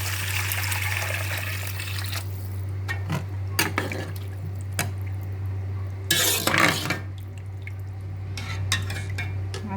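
Heated water poured into a cooking pot for a vegetable soup, heard as close splashing pours with scattered clinks of a pot and utensils over a steady low hum.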